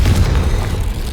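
A booming blast from a Confringo fire spell in Hogwarts Legacy, loud and sustained for about a second.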